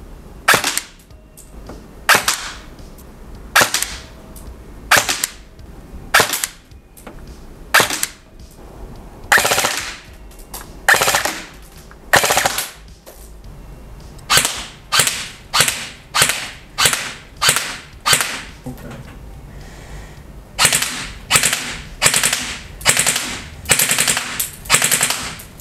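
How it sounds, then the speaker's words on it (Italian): Sharp cracking shots from an HK416 A5 airsoft rifle, fired singly and then in quick bursts, crisp and fairly close with short gaps between. "voi vedrete io che sparo"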